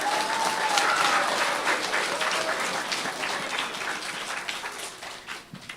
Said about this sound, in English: so give him a round of applause as he comes.